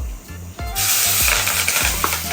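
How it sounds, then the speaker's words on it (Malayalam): Onions and crushed paste tipped into hot oil with mustard seeds, left over from roasting eggs, erupting into a loud, steady sizzle after a few soft stirring clunks, close and continuous. "നമ്മൾ എഗ്ഗ് റോസ്റ്റ് ചെയ്തെടുത്ത് അതേ ഓയിലിലേക്കാണ് ഞാൻ സബോളയൊക്കെ ഇട്ടിരിക്കുന്നത്"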